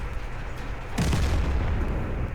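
A single heavy cannon blast from a tank destroyer knocking out a tank in World of Tanks hits sharply about a second in, then rumbles and decays over a low background hum.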